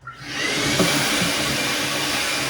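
A shop vacuum fitted with a hose switches on and runs at a steady, loud roar to clear out a garbage disposal, starting with a brief rise and then holding a constant broadband whoosh with no talking.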